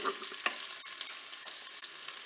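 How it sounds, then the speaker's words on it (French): Bacon lardons browning in a preheated Cookeo pressure cooker, a steady close hiss of frying fat with a few soft stirring scrapes and pops throughout. "je vais encore laisser une petite minute pour bien dorer mes lardons"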